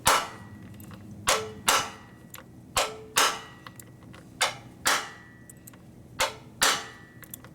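A hammer pounds a stuck part out of a 1972 Harley-Davidson XL Ironhead Sportster motor during a rebuild. About a dozen sharp, ringing metal blows land close by at an uneven pace over faint room noise.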